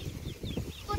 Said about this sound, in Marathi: हे बघ किती कोंबड्या आहेत बघ